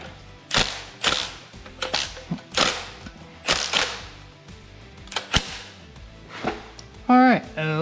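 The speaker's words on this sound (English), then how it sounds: "this impact ain't even gonna do it" An impact wrench hammers in short sharp bursts against a seized bolt on a 7.3 Powerstroke diesel engine, with repeated irregular rattling blasts and clanks and a brief whirring spin near the end.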